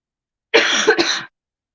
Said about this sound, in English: Hope you can understand that cough